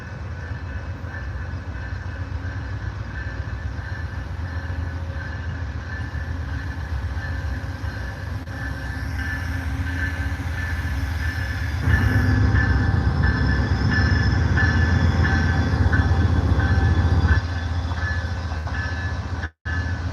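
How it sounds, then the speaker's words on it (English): The Amtrak California Zephyr passenger train rolls into the station at Ottumwa, Iowa, a loud, steady rumble of wheels and locomotive engines that swells as the train draws close, with faint squeals over a continuous drone. "California Zephyr has arrived"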